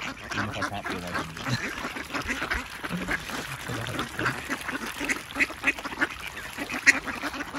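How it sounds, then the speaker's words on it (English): Ducks at a pond quack in short bursts, some close and loud, over a busy outdoor background with faint bird calls and distant murmurs. "There's some very fat ducks by the way."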